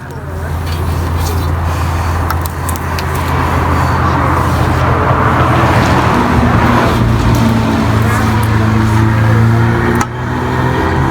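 A Cummins 4BT diesel engine cranks over with a low, steady churning drone, close and fairly loud, while someone talks over it.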